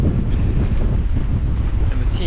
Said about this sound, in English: there's no way you can hear me, but it's windy